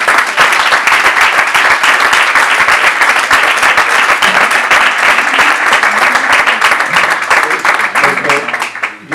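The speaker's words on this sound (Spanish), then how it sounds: "yo creo que un aplauso para empezar." Loud, dense applause from a large audience, sustained and even throughout before fading slightly at the end, with a few voices mixed in.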